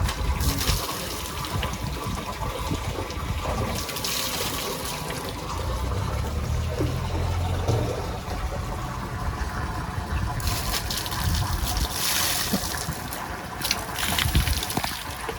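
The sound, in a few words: water poured over farm animals during bathing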